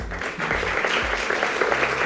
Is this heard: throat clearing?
no